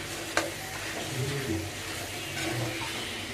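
Crab frying in a pan is stirred: a low, steady sizzle with soft scraping and a few small clicks and knocks, fairly faint and close.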